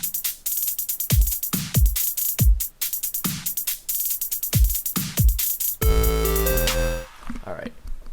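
Hi-hat layered into a trapstep drum pattern, ticking steadily over booming kicks and snare hits, then giving way to a sustained synth chord and a fading tail near the end.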